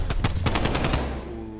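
Automatic gunfire in a video game shooter rattles off as a fast burst of about a dozen close, loud shots, then trails into a fading echo.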